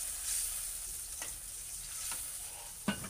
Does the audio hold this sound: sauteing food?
yes